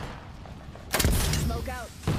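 Gunfire in the video game Apex Legends bursts in a loud, dense volley after a quiet stretch, followed by another short blast, with game voice chatter in between.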